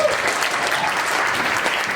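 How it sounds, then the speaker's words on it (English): Audience applause from a talk-show crowd, a dense, even wash of many hands clapping at steady volume through the whole stretch. "You knew they were going to give you that applause"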